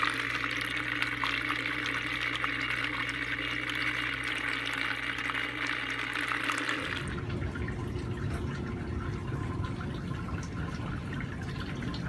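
Wort running out of a Robobrew v3 brewing system with a stuck mash, a steady trickling and splashing flow that shifts to a rougher, more turbulent pour partway through, no voices.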